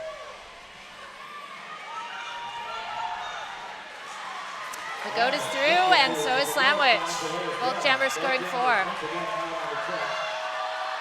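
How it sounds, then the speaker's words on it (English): Crowd noise from spectators at a Seattle roller derby bout, Rose Petals All Stars against Mob City, swelling into louder cheering partway through beneath continuous excited play-by-play commentary. "The Seattle crowd is going wild below us"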